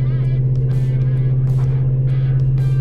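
A diesel Ford F-250 pickup hauls a 35,000 lb load, its engine a loud, steady low drone from inside the cab, with someone talking over it.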